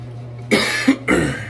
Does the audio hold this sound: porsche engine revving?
no